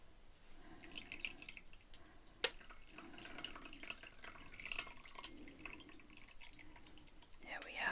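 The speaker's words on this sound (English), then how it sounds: "So I'm just going to pour myself a cup of chamomile tea." Loose chamomile tea poured from a teapot through a tea strainer into a cup, a soft continuous trickle with faint drips, close and quiet, with gentle soft-spoken talk over parts of it.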